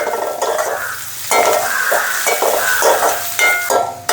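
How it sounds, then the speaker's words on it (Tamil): Onions sautéing in a pan for vegetable noodles, close sizzling broken by repeated scraping stirs of a spoon against the pan, no voices. "மற்ற பம்பா வெங்காயத்தையும் போட்டு நல்ல வடிவாக வதக்குவோம்."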